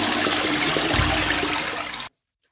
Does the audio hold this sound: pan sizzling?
no